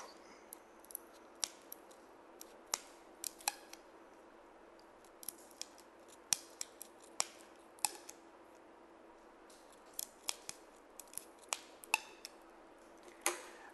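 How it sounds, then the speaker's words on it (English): Scissors snip plastic drinking straws into small pieces, giving quick, crisp clicks that come irregularly throughout, close up and with no talking. "We can take all the four straws together, the yellow, the blue, the green, the orange, and cut small."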